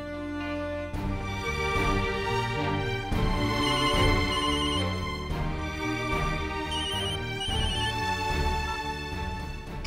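A melodic phone ringtone plays steadily and loudly, repeating its tune several times with no talking.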